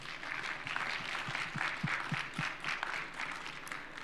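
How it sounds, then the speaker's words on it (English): Sustained audience applause for finalist teams at the end of a hydrogen case competition, a moderately loud wash of clapping with a few distinct nearby claps punctuating it. "Let's give them one last round of applause."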